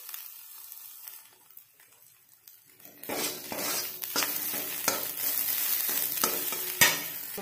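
Masala frying with garam masala for egg manchurian, stirred in a pan. Quiet at first, then a steady sizzle with scraping stirs and a sharp clink near the end. No one speaks.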